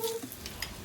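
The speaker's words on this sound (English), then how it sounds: "So this is me frying them." Red meat fries in a pan with a soft, close sizzle and a brief stirring scrape, lasting under a second.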